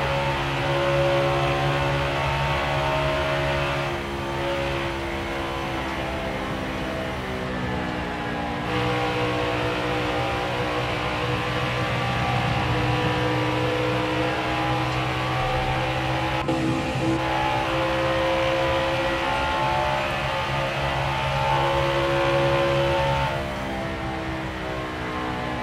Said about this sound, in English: let you guys listen to the engine sounds